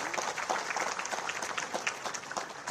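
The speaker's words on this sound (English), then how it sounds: "A huge round of applause for him." Audience clapping at the opening ceremony of a disaster management conference, a short burst of dense, even applause filling the hall with no voices on top.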